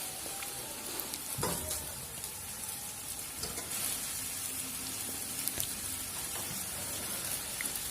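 Fish curry masala sizzles and fries steadily in a pan as water goes in, a continuous crackling hiss with a few sharper spits and no talk.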